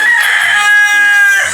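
A single loud, close rooster crow, drawn out and strained, filling the whole short moment.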